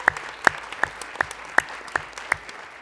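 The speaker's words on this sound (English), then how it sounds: "they deserve a round of applause." Sparse, evenly spaced claps at a board of directors meeting, about seven distinct sharp hits at a slow steady rhythm, close and isolated with quiet room noise between.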